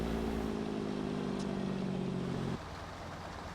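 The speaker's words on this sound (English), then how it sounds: "I turned the engine brake on, and it sounds awesome" Truck engine brake in Farming Simulator 15, a droning, buzzing rumble held steady for a few seconds before cutting off abruptly, leaving a quieter engine hum.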